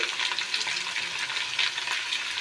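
Potatoes fry with a spoonful of salt in a wok for a Bengali drumstick and poppy seed dish, a steady close crackling sizzle with soft stirring scrapes throughout.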